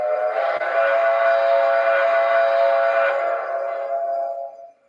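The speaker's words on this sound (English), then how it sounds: "the whistle in here is awesome too." A model USRA Mikado steam locomotive sounds its whistle, one long, loud chime-like blast that holds steady, then fades with a short echoing tail.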